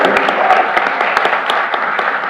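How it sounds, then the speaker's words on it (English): A short burst of close, loud applause and clapping from attendees at a county board meeting honoring a middle school volleyball team, steady and dense for a couple of seconds. "So folks, a quick applause for our Swansboro Middle School volleyball team."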